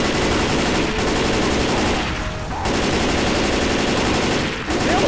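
Rapid automatic gunfire from the Left 4 Dead 2 No Mercy campaign, loud and continuous bursts that break off briefly twice before resuming.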